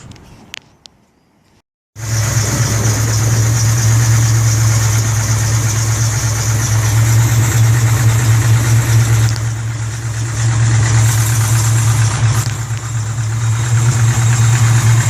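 A 400-horsepower Ford Mustang V8 idles steadily with a low, throbbing rumble, loud and close, running continuously after a brief quiet start.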